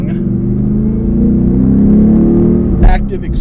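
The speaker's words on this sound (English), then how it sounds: "Active exhaust in the back." A 2016 Roush Stage 3 Mustang with a 670 hp engine and an active quad-tip exhaust rumbles low and steady nearby, swelling slightly mid-clip before a brief louder burst near the end.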